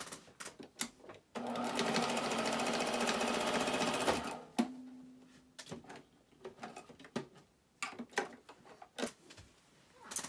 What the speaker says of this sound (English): I'm going to take my the sides and I'm going to stitch those